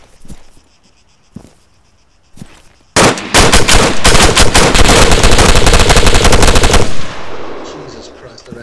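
Rifle gunfire in the video game ARMA 3, a few sparse single shots and then a loud, close, sustained rapid burst of automatic fire lasting about four seconds before cutting off and fading.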